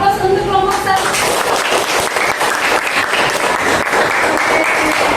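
Classroom applause for a student group that has just presented, a steady wash of many hands clapping throughout, with a few voices talking near the start.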